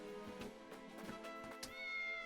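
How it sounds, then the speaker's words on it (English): A house cat meows indoors, several short calls in quick succession, close and clear, with no talking over them. "It was the cat. It was the cat all along."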